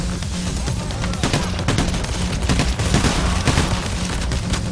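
Rapid bursts of gunfire from the video game Payday: The Heist crackle continuously with heavy booms underneath, a dense, busy volley of shots with no pauses.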